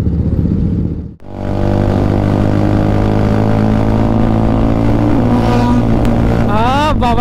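A second-generation Suzuki Hayabusa motorcycle revs and accelerates hard up close, its loud engine note dropping out briefly, then returning as a strong rising whine, with wind buffeting and a rider's voice near the end.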